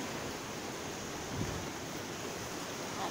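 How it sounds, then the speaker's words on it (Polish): Sea waves wash steadily onto a rocky beach in a continuous, even roar of surf, with no voices, and a faint rush of wind or microphone noise runs under it. "Szum fal to mnie bardzo uspokaja."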